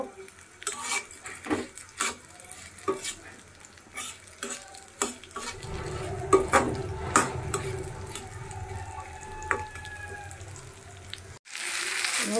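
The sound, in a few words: onion, green chili, bay leaf and pepper frying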